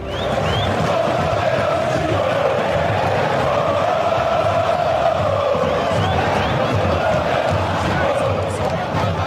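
Corinthians supporters roar in a dense, continuous wall of crowd noise at the Maracanã stadium, loud and sustained with scattered whoops and chanting voices throughout.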